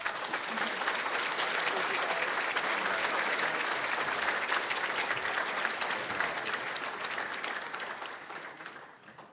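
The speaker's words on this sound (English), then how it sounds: "Let's give them another round of applause." Sustained applause from a luncheon lecture audience, dense and steady clapping throughout that gradually thins and fades near the end, with no voices standing out.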